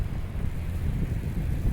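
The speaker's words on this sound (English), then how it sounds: "It's always windy here" Gusty wind sweeps across a downtown intersection during a heavy snowstorm, a steady low roar of buffeting air on the microphone lasting throughout, with no voices.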